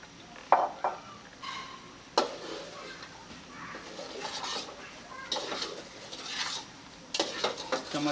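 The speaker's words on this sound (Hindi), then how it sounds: "चम्मच को बराबर हिलाते रहना है।" A spoon stirs semolina milk halwa in a pot, producing intermittent scraping and clinking against the metal at close range, irregular in rhythm over a quiet background.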